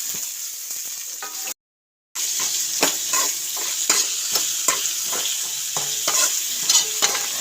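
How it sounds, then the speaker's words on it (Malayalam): Curry leaves, tomato and chili sautéing in a pan, a steady hissing sizzle with frequent scraping stir strokes, close and loud, briefly cut to silence near the start before resuming. "കറിവേപ്പിലയും നമ്മൾ ഇട്ട് വെച്ചിരുന്ന എടുത്തു വെച്ചിരുന്നുണ്ടല്ലോ തക്കാളി മുളക് അതെല്ലാം കൂടിയിട്ട് വഴട്ടി"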